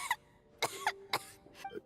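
A woman gives several quiet, dry coughs, three or four short bursts spread unevenly over a couple of seconds with a faint hum behind.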